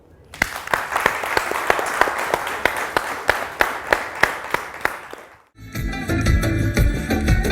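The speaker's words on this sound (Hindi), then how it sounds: "एक दफा फिर मुस्तफा भाई और सरदार भाई के लिए तालियां" Audience applause at a silver jubilee award show in Chitral, steady clapping with sharp individual claps for several seconds, then a brief drop and a burst of denser, louder noise at the end.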